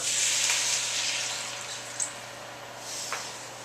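A steady hiss of water sizzling in a hot pan, fairly close, with a couple of small pops and crackles.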